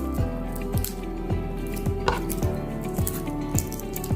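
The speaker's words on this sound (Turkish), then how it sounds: "Hemen bir iki diş sarımsağımı eziyorum." Garlic cloves pressed and crushed for a gazpacho, a rhythmic series of soft squishing thuds, close and moderately quiet, repeating about every half second with no talking.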